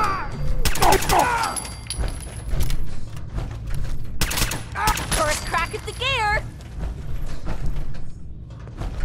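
Bursts of gunfire in the Fallout 4 video game, loud rapid shots and automatic volleys mixed with clanking mechanisms, heard alongside excited shouting.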